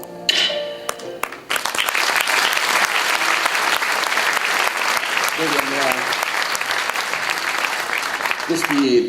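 An Italian theatre audience breaks into sustained applause after a stage performance, dense clapping filling the room for several seconds following a brief moment of talk, with voices returning near the end.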